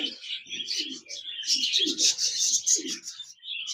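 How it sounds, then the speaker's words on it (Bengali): A pair of large budgerigars in a cage chirp and warble in rapid, overlapping twitters, close and steady, with a few softer low murmurs underneath. "এখানে দেখতে পাচ্ছেন একজোড়া বাজরিকার পাখি রয়েছে"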